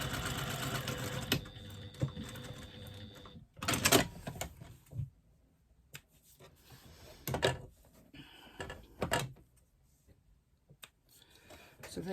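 A sewing machine stitches a slip pocket for a retro clutch bag in short, quiet bursts separated by pauses. A few softer clicks and handling sounds come between the runs of stitching.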